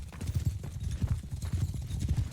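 Cavalry horses trotting in the video game Mount and Blade Bannerlord 2, a steady run of overlapping hoof clip-clops on ground, loud and close, continuing for the whole stretch with no talk over them.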